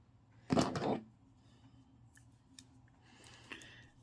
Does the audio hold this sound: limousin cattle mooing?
no